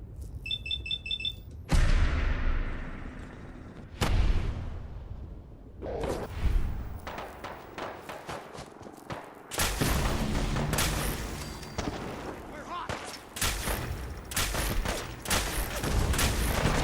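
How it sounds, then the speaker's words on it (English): Gunfire from a weapon in Sim Settlements 2: a few loud, isolated blasts, then long stretches of rapid, dense shooting, with brief beeping tones at the very start. "I'm going to lay down hell with this gun here"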